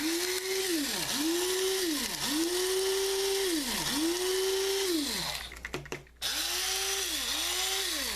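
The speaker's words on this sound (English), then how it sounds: "It sounds differently as the beans are getting finer." Coffee beans are ground in an electric grinder, whose motor whines in repeated rising and falling cycles, loud and near, with a brief stop and shake before the grinding resumes.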